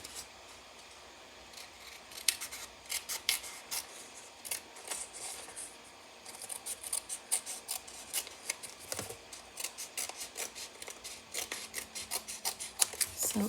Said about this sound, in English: I'm just going to take my snips and we're just going to trim this off.